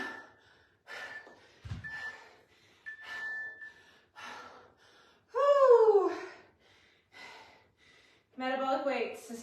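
Heavy, effortful breathing and gasping between timed sets of a metabolic weights workout, loud and close, with short panting bursts and strained exhales alongside brief spoken remarks.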